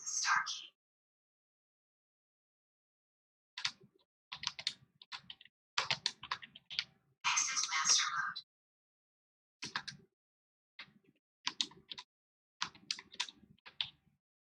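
Short bursts of quiet, close clicking come from a computer keyboard as a device name is typed into smart home control software for a door lock, separated by several silent pauses.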